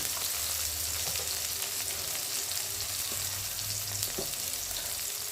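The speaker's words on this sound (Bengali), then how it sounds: "পেঁয়াজটা একটু ভেজে, টমেটোটা একটু ভেজে নেবো।" Onion and tomato fry in a pan with a steady, close sizzle and the occasional scrape of stirring, with no talk over it.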